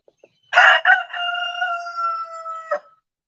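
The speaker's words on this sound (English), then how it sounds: "then y'all can stare at the chickens" A rooster crows once, loud and close, a long drawn-out cock-a-doodle-doo with a sharp start and a clipped ending, preceded by a couple of tiny clicks in an otherwise quiet farmyard.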